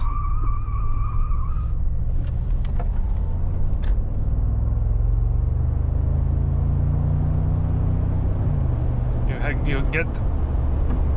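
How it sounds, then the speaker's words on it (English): A V8 car engine drones steadily at low pitch under road noise while driving in comfort mode, with occasional brief higher sounds mixed in. "the sound of this V8. It still has a lot of character."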